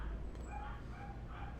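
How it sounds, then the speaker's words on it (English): A dog barks in the background of a home livestream, giving quick, faint yips at a distance over a steady low hum, with no talk. "Sorry about the dog barking in the background."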